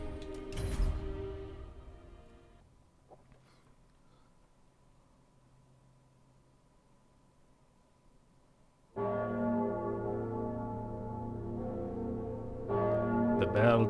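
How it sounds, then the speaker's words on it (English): A deep church-style bell tolls in the video game Dark Souls 3, one heavy strike ringing out and fading into a long quiet hum before layered music swells loudly near the end. "The bell tolls"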